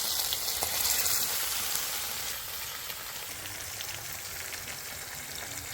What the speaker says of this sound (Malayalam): ഇനി ഓരോ മീനായിട്ട് പറക്കി വെച്ചു കൊടുക്കാം